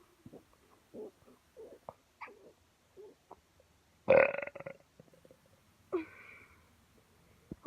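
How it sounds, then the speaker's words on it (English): A loud, drawn-out belch from a person bursts out alone, with a second shorter burp after it and softer mouth and throat noises before. "it's going to be a loud burp."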